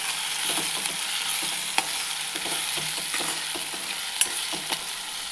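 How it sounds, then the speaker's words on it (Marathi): Potato filling for roti rolls stir-fried in a pan with turmeric and salt, a steady sizzle with repeated sharp spatula taps and scrapes against the pan, close and without talk. "आपण यामध्ये थोडी हळद टाकून घेऊ थोडं चवीनुसार मीठ याला छान परतून घ्यायचं आहे"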